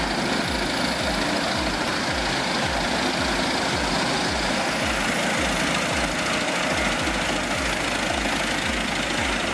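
A Komptech Chippo 8210C wood chipper with a 780 HP Cat engine runs at a loud, steady diesel drone with a fast low pulsing throb, continuous and close.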